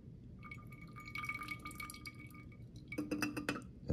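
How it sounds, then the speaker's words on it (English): Ferrofluid liquid trickles and pours into a glass bottle with a rising ringing tone, small clinks of glass near the end; close and fairly quiet. "I'm gonna pour this in"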